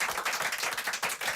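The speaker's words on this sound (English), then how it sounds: "applaudissements dans ce studio avec des lecteurs, auditeurs de France Inter et membres du jury du livre inter" A small studio audience of radio listeners and book-prize jury members claps in a French radio studio, a dense burst of close, steady applause with no voices.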